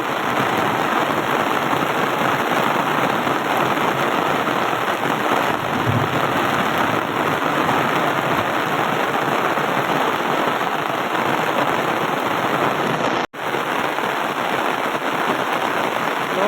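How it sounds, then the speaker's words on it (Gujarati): A constant heavy downpour during an ongoing cricket final in Gujarat roars evenly, thick and close, with rain pelting surfaces throughout and only a momentary break near the end. "હજી મેચ ચાલુ અને વરસાદ ફૂલ ચાલુ થઈ ગયો"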